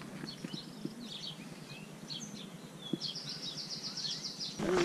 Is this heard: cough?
no